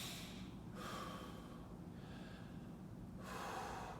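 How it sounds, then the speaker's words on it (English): Slow, deep breaths in and out are heard during a deep pectoral stretch held as part of rotator cuff tendonitis exercises. Each long inhale and exhale comes up close and airy over a steady background hiss. "take big breaths in"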